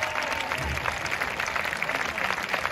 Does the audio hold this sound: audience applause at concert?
yes